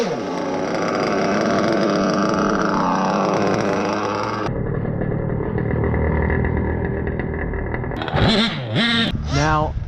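A Redmax gas engine in a TLR 8ight XT RC truck buzzes loudly with a high motor whine that rises and falls as it revs, then cuts to a rougher tone, followed by a few sharp revving bursts near the end.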